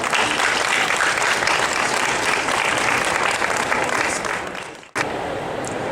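Sustained audience applause at a literary book awards ceremony, a dense wash of clapping from a sizable crowd that holds steady, dips briefly, then resumes at full strength.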